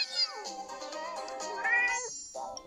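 Several cat meows in a row, close and fairly loud, with rising and falling tones and short gaps between calls, in an indoor setting while a mobile game is being played.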